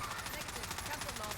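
Rapid automatic gunfire from a weapon in the video game Warzone, a dense, steady burst of repeated shots lasting a second and a half at an even, loud level.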